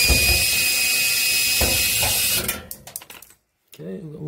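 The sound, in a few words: Phillips screwdriver removing screws from Samsung dryer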